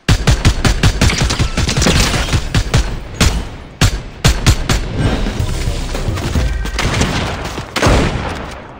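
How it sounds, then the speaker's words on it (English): Rapid bursts of gunfire ring out in Fortnite, loud and close, sharp overlapping shots in irregular clusters with brief gaps, a few heavier booming hits mixed among them. "they're shooting this way"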